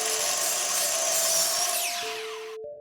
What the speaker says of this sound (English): let's get started and cutting these next few pieces of casing that we have to install in this opening